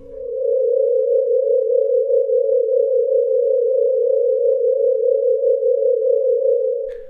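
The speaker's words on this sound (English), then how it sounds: "This is a sound of pulsations that belongs to a red giant star called 74" Sped-up stellar pulsations of the red giant star 74 Draconis rendered as a single steady, loud pure tone that hums unbroken for about seven seconds, with a faint rumble at the start and end.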